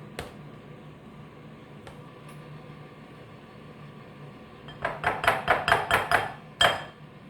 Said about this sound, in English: take our spatula and mix that up